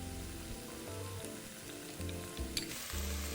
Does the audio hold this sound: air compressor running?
no